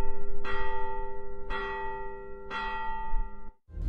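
Church bells in Riga ring out in a steady, measured peal, three clear resonant strikes about a second apart, each with a long humming decay, heard alone without talk.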